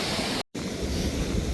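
Water rushes heavily through open reservoir sluice gates, a dense continuous roar broken by a brief dropout, with no voices.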